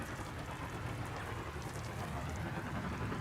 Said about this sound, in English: well, it's raining at all times.